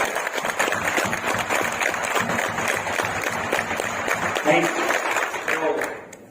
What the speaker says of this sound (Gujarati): એકવાર આ મહેમાનોનું ચલો જોરદાર તાળીઓથી સ્વાગત